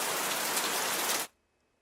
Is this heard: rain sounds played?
yes